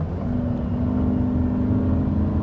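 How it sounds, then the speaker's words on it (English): A 2024 Toyota RAV4 hybrid's petrol engine drones loudly at a constant pitch, holding revs through its CVT while accelerating uphill, with no talking. "you're accelerating up a hill, you might find that the engine can be noisy"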